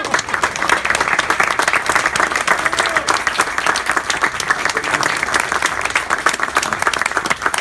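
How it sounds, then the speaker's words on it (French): Loud, dense audience applause at a French stand-up comedy night fills the whole stretch, a steady wash of many hands clapping close by without letup. "merci beaucoup d'applaudissements pour Mohamed"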